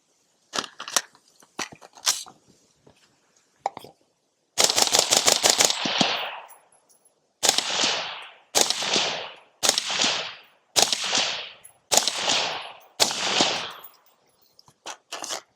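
A rifle fitted with a CAM556 Jaguar silencer fires outdoors: a few scattered shots, then a rapid string and several spaced bursts of muffled, cracking reports, each fading off downrange.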